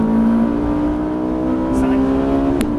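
A Ferrari F458 at full throttle on a race track, the engine holding a loud, steady high-pitched drone as it accelerates, close up from inside the car, with brief sharp clicks near the end.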